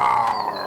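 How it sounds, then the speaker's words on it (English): A lion roars as a sound effect in an audio drama set in a forest, a short, loud, rough growl close up with no talking over it. "A lion!"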